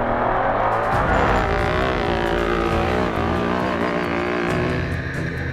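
Engine of a Can-Am Maverick Turbo off-road race vehicle in the Vegas to Reno desert race, a steady loud droning roar with shifting pitch, running continuously with no talk.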